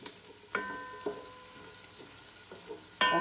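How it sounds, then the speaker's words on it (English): Garlic and onion fry gently in a pan, a soft steady sizzle punctuated by a few distinct clinks and scrapes of a utensil against the pan, fairly quiet and close. "Now we cook the garlic and onion, caramelize really good this"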